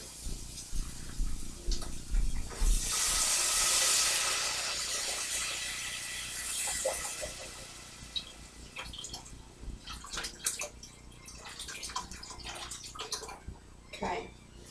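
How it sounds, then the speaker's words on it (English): Liquid broth pouring into a pan of stuffing, a steady close splashing flow that builds and then trails off into scattered clinks and small drips. "I'm going to add some broth on top of those, and I'm going to bring it to a boil."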